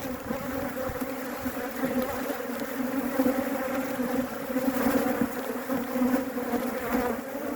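Aggressive honey bees at a hive produce a dense, continuous buzzing drone, loud and close, swelling slightly at times, with no voices.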